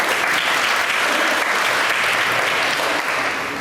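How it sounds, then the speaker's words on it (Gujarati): An audience at a municipal office loan-cheque distribution event breaks into steady, loud applause, a dense wash of clapping hands that holds evenly throughout. "આપણે બધા એક જોરદાર તાળીઓથી SBI ને વધાવી"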